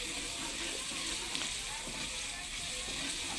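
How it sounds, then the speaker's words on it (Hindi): Masala of tomato and onion frying in a pan for an aloo dish, a steady broadband sizzle running throughout with faint background voices. "मसाला जो है ना जी भून रही है जी, टमाटर और प्याज, टमाटर डाल दिए"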